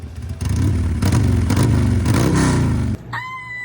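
A loud Harley-Davidson Sportster engine roars and revs steadily for about three seconds in a garage, then cuts off abruptly, leaving a lower idle with a thin high whine.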